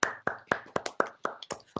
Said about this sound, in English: Let's give the author a big round of applause again